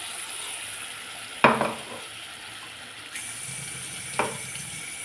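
A paste of mustard, poppy seed, tomato and green chilli fries in a pan with a steady soft sizzle, broken by two sharp splattering bursts as it hits the hot oil.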